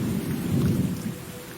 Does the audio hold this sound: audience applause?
no